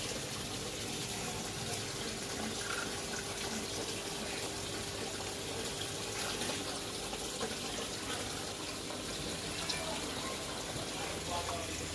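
Water pours steadily from a waterfall curtain into a homemade 4,000-litre koi pond, a continuous close rushing splash with no breaks and no talking over it.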